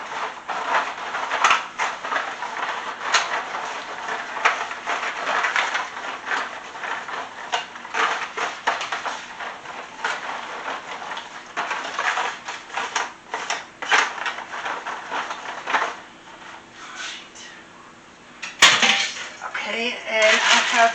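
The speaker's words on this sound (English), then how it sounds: "now we're going to mix this together" Cornbread dressing ingredients stirred together in a bowl with a spoon, a steady close scraping and clacking that runs throughout, with one sharp knock near the end.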